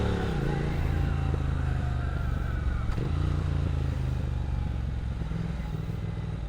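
A 1200cc motorcycle engine runs steadily up close at a Philippine motorcycle heritage event, its loud, continuous idle and revving drone filling the whole stretch alone with no talk.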